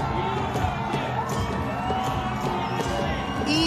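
A large crowd cheers steadily through an afternoon Kabaddi final between Erode and Virudhunagar at the Isha Gramotsavam tournament in Coimbatore, a dense, continuous roar of voices with scattered shouts and whoops.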